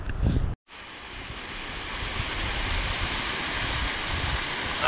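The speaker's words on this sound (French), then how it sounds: "Alors, nous avons ici une cascade" A waterfall cascades beside the riverside hiking trail in Hautes-Gorges national park. It makes a steady, close, full rushing roar that cuts out briefly near the start and then runs on unbroken.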